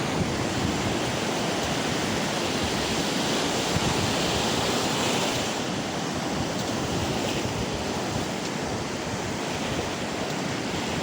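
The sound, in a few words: ocean waves on the beach at Wollongong, Australia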